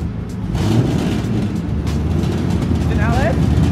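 A 1000-horsepower turbocharged BMW E30 runs on a dyno with a loud, continuous engine roar and turbo whine, while people talk over it.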